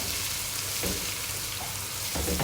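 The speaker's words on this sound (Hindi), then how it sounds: "तो हल्का सा फ्राई करूँगी, जैसे ये फ्राई हो जाएगा" Ginger and garlic fry lightly in a pan for Egyptian koshari, giving a steady, close sizzle with faint stirring scrapes throughout.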